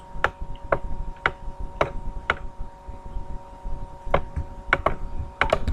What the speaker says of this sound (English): I'm going to use my arrow keys on my keyboard to adjust that